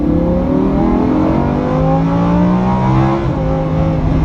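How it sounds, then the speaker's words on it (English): A Lamborghini Huracan accelerates onto a freeway from about 25 mph, its engine note climbing steadily and loud from inside the car, with rising harmonic tones and a brief dip near a gear shift before building again. "Get a little acceleration, hopping onto the freeway maybe."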